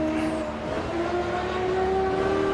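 A loud 1960s Nissan race car engine drones steadily at Kyalami circuit, its pitch rising smoothly as it accelerates, heard close up.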